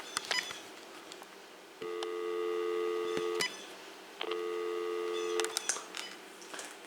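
A Uniden EXAI5680 cordless phone gives a steady tone, which cuts out when the flash button is pressed and then returns. Sharp button clicks and brief beeps come before and between the tones, all close and clear.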